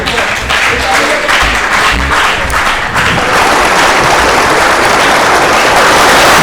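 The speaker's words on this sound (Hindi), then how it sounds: "उनके लिए एक बार फिर से जोरदार तालियां।" A crowd at a school farewell ceremony in India breaks into loud, sustained applause that swells and keeps going, with a voice briefly audible at the start.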